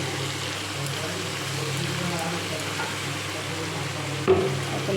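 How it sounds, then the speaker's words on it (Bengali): Ginger, garlic and green chili paste sautéing in oil for a goat meat curry, heard as a steady, moderate sizzle with a low background hum and a single knock near the end. "লঙ্কা বাটাটা দিয়ে একটু ভালো করে কষিয়ে নিই"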